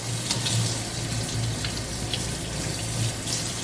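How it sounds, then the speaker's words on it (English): Running tap water rinses banana peppers clear of heavy cream in a sink, a steady close splashing stream without speech. "Rinse them all."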